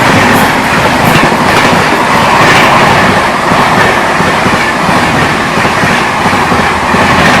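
Sitamarhi–Delhi Amrit Bharat Express running alongside the Barmer Express on a parallel line, steady loud rolling rumble with rhythmic clickety-clack of wheels throughout, no voices.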